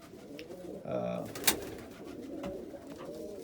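Pigeons coo softly close by inside a loft during breeding season, a few low throaty calls with some light rustling in the background.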